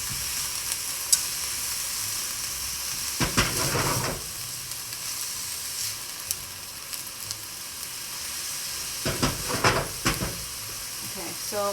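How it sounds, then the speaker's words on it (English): Cabbage simmering down in sauce in a pan for garlic ramen stir fry, with a constant soft sizzle and hiss and a few bursts of stirring and utensil clatter, heard close up with no talking. "the liquid is going to help reduce down the cabbage and get it cooked down in the pan"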